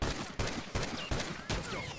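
Gunfire in The Last of Us Remastered multiplayer, four or five sharp, loud shots spaced roughly evenly across two seconds, close and dominant.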